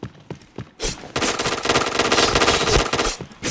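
Loud machine-gun fire in a video game, with a few faint shots followed by a dense, sustained automatic burst close up that lasts about two and a half seconds.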